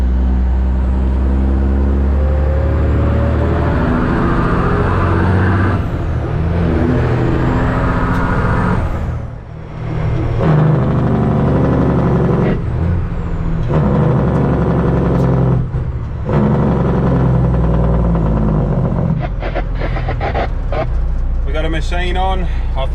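An Australian truck's engine rumbles loudly and steadily as the rig drives off, its low drone continuous throughout while someone talks over it.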